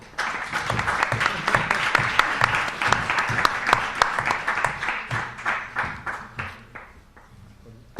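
An audience at a round-table talk on image and game-industry careers applauds with dense, steady clapping that holds for several seconds, then thins and fades toward the end.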